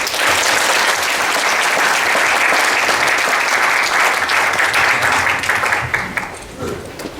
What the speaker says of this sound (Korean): 격려 박수 한번 주겠습니다.